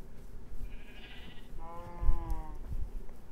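Two short sheep bleats from Minecraft, one after the other, close and moderately loud over a soft background.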